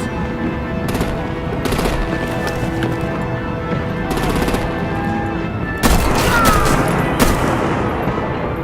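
Rapid weapons fire from the Batman: The Enemy Within game cracks out in repeated bursts of loud close shots over a humming background, with a heavier, denser barrage near the end.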